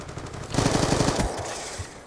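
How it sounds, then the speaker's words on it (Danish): The Peacekeeper gun in Black Ops 2 fires a quick burst of about nine rapid, evenly spaced shots, close and punchy, followed by a couple of scattered shots in the background. "jeg bruger den nye våben, der hedder Peacekeeper"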